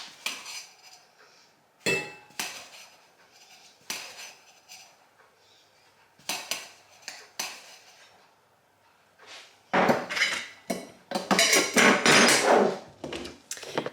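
Starbucks powdered hot chocolate is spooned into a mug, a series of close metallic clinks and taps of spoon on ceramic, followed by louder clattering scrapes, with no talking.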